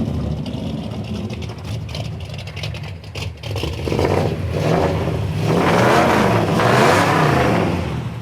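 A 1965 Ford Galaxie 500 with dual exhaust and a rebuilt motor revs up from a rumbling idle, rising in strong, loud surges of engine roar close by.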